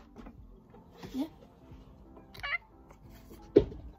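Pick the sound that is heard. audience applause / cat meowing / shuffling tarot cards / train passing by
cat meowing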